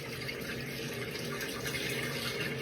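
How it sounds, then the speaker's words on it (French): Hot water runs steadily from a bathroom tap into a sink, a continuous, even rushing stream with no pauses and no voices. "Alors là, je suis en train de faire couler de l'eau chaude."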